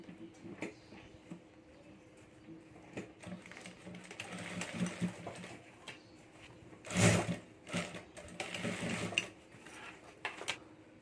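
A sewing machine stitches the border of a handbag, starting at the first zip, in faint, uneven stop-start runs with light clicks and handling knocks between them, one louder thump midway.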